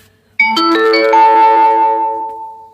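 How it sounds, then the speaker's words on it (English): A mobile phone sounds a loud electronic ringtone: a quick run of bright chime tones settles into a sustained ringing note that slowly fades, with no talking. "my phone made a bunch of noise"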